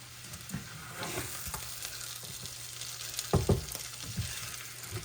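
Potatoes fry in a pan with a continuous close sizzle, broken by occasional louder scrapes and clatters as they are stirred, with no voices.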